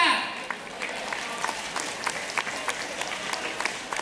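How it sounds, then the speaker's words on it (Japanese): Crowd applause at an indoor cruise-terminal port festival for Ono-machi lion dance performers, moderate clapping with scattered sharper claps, heard alongside a talking voice. "どうぞもう一度大きな拍手をお送りください。"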